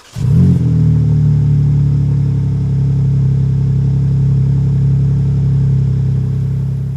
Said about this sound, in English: start it up and see what it sounds like